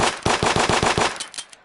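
Automatic rifle with a wood stock fired in a VR game, a loud close burst of about nine rapid evenly spaced shots, then a couple of trailing shots fading out.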